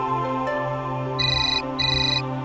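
Phone ringtone ringing indoors at home, a bright electronic melody playing in two repeated bursts over a steady tonal tune, close and clear with no talk over it.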